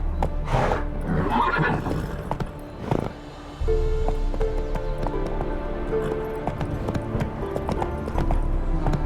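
Roach the horse gallops and neighs in The Witcher 3, with a loud whinny near the start over steady, rhythmic hoofbeats that continue throughout.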